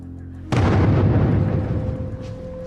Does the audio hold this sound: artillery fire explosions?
yes